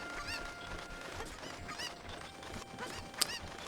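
Cucco chickens squawking in the video game Ocarina of Time, a few honking, goose-like calls repeating at irregular intervals over a busy town background, with a sharp chime near the end.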